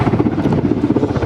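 Attack helicopter with contra-rotating main rotors and no tail blades, a steady loud rotor and engine drone throbbing evenly throughout, close and continuous with no voices.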